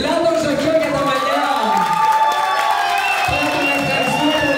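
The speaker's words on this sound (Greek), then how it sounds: "Θερμό χειροκρότημα στον Πλάτο Ζωχιό για τα μαλλιά." A live audience cheers and claps warmly for a hairstylist at a show, a full crowd roar with whoops and applause filling the room while voices carry over it.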